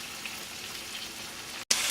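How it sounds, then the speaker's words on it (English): Pork chops and bacon sizzle in a frying pan, a steady loud crackling hiss with brief pops and no talk. "As you can see, the pork chops are sizzling nice."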